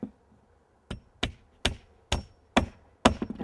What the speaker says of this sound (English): all I'm doing is I'm tacking this every once in a while to keep it down flat